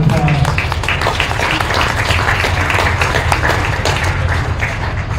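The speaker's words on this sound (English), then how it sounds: "give these junior exhibitors a round of applause" Loud, close applause from a county fair beef show audience for the junior exhibitors, with dense clapping running steadily for the whole stretch and a brief voice at the very start.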